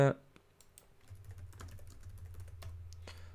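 Computer keyboard keys tapped in a short burst while a video file is renamed, close and fairly soft, over a low steady background hum.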